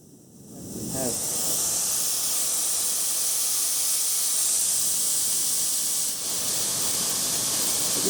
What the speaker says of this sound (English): I've put air in it and I could hear a hissing sound